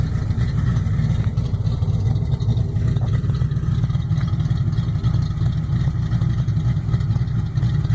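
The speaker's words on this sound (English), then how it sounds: "This car sounds really good." A Ford Mustang engine runs steadily after a thermostat replacement, giving a loud, continuous low rumble that holds level with no talk.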